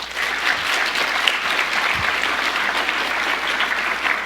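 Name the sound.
round of applause for the advisors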